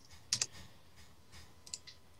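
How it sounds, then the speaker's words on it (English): Computer keyboard typing during a Skype chat: a few faint, scattered keystroke clicks come in two small clusters against quiet room noise. "I was typing on Skype to Warvalin"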